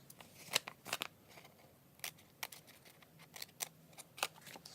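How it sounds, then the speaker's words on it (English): Scissors snip through a 6 by 9 paper envelope, cutting out a small square: a series of sharp, close, crisp cuts in irregular bursts over a quiet background, with no talking. "you're going to cut the little square"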